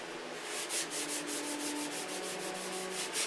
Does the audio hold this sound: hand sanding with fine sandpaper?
yes